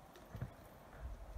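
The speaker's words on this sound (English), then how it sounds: "We have magnificent Canadian horse and a Morgan named Kate and one named Bella." Faint, muffled hoofbeats come from a Canadian horse and a Morgan working at a maple sugar bush during sap gathering. A few soft thuds sound at a slow walking pace against quiet outdoor ambience.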